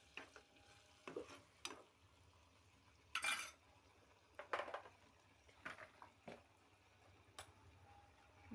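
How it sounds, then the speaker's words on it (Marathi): Onion-garlic paste sautéing in a pan, with faint, scattered spatula scrapes and knocks against the metal over a quiet, low sizzle, without voices. "आता यामध्ये कांदा लसूणची पेस्ट घालत आहे आणि याला छान परतून"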